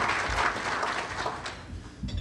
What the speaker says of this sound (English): I think that's worth some applause.